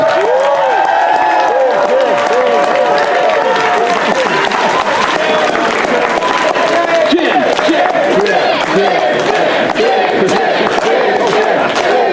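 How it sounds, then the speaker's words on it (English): Loud sustained applause and cheering from a convention crowd at the Whinny City Pony Con 2019 closing ceremonies, constant dense clapping with whoops and shouts throughout. "Can we just get a real quick extra applause for just how amazing Jim has been this weekend?"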